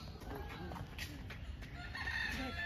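A red junglefowl crows at Patiala Zoo over steady outdoor background noise, the call rising and drawn out, moderately distant.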